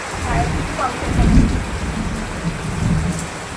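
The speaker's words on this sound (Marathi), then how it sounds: "तर बघू शकता बाहेर किती पाऊस आहे," Heavy monsoon rain pours steadily outside while thunder rumbles low and long through it, swelling to a louder roll midway, with no voices.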